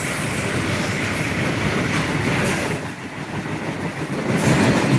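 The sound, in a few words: Babaranjang coal freight train passing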